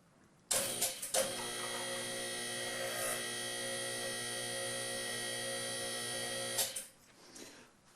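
A QuickJack car lift runs its electric pump motor to raise the lift pads, a loud steady tonal whine starting abruptly, holding for about six seconds with a few clunks, then cutting off.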